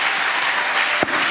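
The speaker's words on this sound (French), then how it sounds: "Acclamation à Jésus." A church congregation bursts into applause and acclamation, a dense, steady wash of clapping held at an even level for just over a second, with a brief louder thump near the end.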